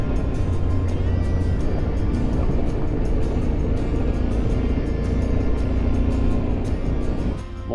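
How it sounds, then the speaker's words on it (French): A motorcycle cruising in fourth gear at about 60-70 km/h on a mountain road, a steady loud engine drone mixed with wind rush throughout, with no talk. "On roule en 4e vitesse, à peu près 60-70 km/h"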